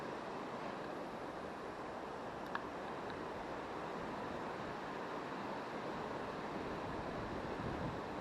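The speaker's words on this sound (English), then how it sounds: "It's really windy" Strong wind on a riverbank during a lure-fishing outing, a steady broadband rush buffeting the microphone for the whole stretch with no talk over it.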